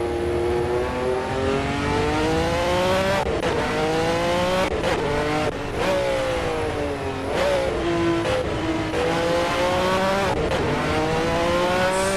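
A powerful race car engine howls around Brands Hatch in Assetto Corsa, revving up through the gears with repeated climbing pitches and sharp drops at each shift, loud and close throughout with no talking.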